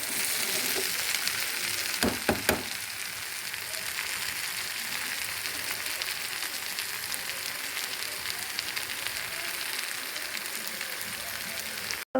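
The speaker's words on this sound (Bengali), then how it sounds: "এবারে লাল লাল করে ভেজে নিচ্ছি।" Food sizzles and fries steadily in a pan on a gas stove, with a constant crackling hiss and a couple of sharp clatters early on.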